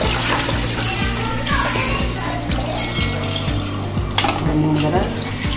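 Water running and sloshing as raw mutton is rinsed in a pot for a mutton curry, a steady close wash with faint clinks of the vessel throughout.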